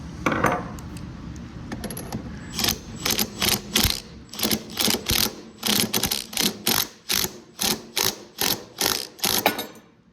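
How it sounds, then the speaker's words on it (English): An impact wrench hammers a nut off a Briggs & Stratton 130G32 engine crankcase, firing in rapid, evenly spaced rattling bursts after some handling clatter, loud and close. "I'm gonna go ahead and use my impact."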